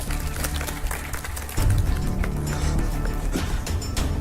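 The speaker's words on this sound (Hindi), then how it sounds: "ताली बजाओ जोर से" Loud, dense clapping from a group of people on a reality competition set, steady throughout with a surge in intensity midway, close and busy with no one speaking over it.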